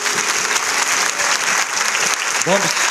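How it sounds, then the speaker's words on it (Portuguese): A church congregation claps steadily and loudly throughout, sustained applause filling the room, with a voice briefly rising near the end. "Palmas para Deus."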